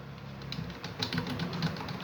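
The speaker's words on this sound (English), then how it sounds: "you can use whichever button provided or available in the keyboard and start typing here" Keys clicking on a physical keyboard plugged into a mobile phone through an OTG adapter, a steady run of light taps close to the microphone with no talking.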